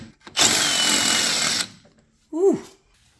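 A power drill bores a hole through a metal skid plate for a 1964–1972 GM A-body, a loud steady grinding burst of about a second, then a short whining rev as the bit slows.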